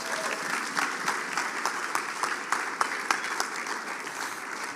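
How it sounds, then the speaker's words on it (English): An audience at a business panel event on gifting claps steadily for a panelist, a dense, close round of applause with a few sharper individual claps standing out, holding even throughout. "Y'all give Kelly a round of applause."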